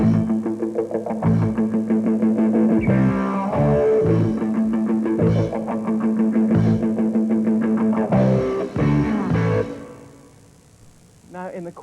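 A rock band plays: bass and drums hit sharp accented stabs while electric guitar chugs steady consonant eighth notes, loud and rhythmic before fading out near the end.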